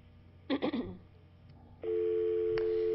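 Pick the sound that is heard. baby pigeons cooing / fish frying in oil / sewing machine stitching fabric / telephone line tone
telephone line tone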